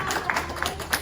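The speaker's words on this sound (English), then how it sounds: "Let's give them another round of applause." Sparse, fairly quiet applause from a small audience in a college engineering class after a student presentation, a few distinct claps standing out over a thin clapping wash.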